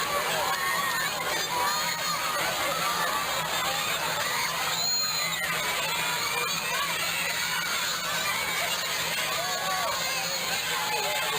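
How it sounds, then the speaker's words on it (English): Crowd cheering and children shouting fill a Rubik's cube competition hall, a dense, loud wall of voices and excited yells that runs unbroken for over ten seconds. "Everybody's cheering."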